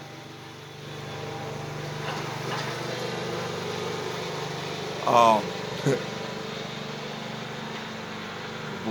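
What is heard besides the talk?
tractor engine running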